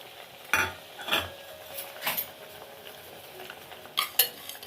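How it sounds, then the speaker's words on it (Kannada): Cumin, pepper and fenugreek seeds being dry roasted in a pan for a mango rasam. There is a quiet background with a handful of distinct scraping and clinking strokes from a utensil stirring against the metal pan. "ನೋಡಿ, ಇದನ್ನು ಸ್ವಲ್ಪ ಹುರ್ಕೊಳ್ಳೋದ ಚೆನ್ನಾಗಿ ಘಮ ಬರೋವರೆಗೂ"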